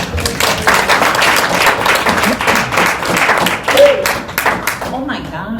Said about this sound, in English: I was so excited by your applause